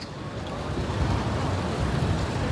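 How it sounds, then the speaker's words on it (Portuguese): Busy morning traffic on a Copacabana street, with a dense, steady roar of passing motorbikes and cars heard from close by, broad and continuous without distinct individual pass-bys. "agora vocês veem que já começa o alto movimento aí das motinhas"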